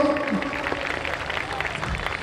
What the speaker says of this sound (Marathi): जोरदार टाळ्या आपण वाजवू शकतो